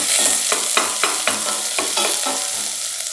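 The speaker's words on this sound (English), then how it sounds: "Love that sound. It's a sizzle, right?" Cauliflower soup base sizzling steadily in a pan, kept from browning, with a spoon stirring through it in repeated scraping strokes, close and loud with no voices.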